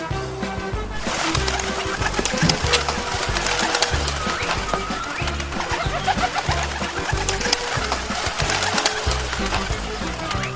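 Pigeons coo steadily while being fed in a park, their calls blending with busy outdoor ambience and a dense, continuous background of movement and activity.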